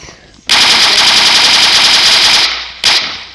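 Rapid machine-gun fire from a guns mod in Minecraft PE, one long sustained loud burst of closely spaced shots lasting about two seconds, then a short second burst, close and dominant.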